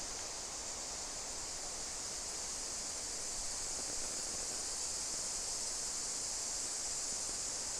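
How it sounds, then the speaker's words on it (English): Cicadas drone in a summer wood, a continuous, even, high-pitched buzz at moderate distance with no break and no talk. "it is the cicadas that are humming in the background, buzzing"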